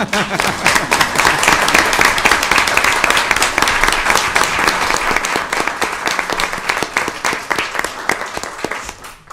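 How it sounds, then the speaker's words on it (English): Sustained applause from an audience at a Lincoln city council meeting, loud and dense clapping for nearly the whole span before thinning out at the end. "Can we please applaud Director Johnson?"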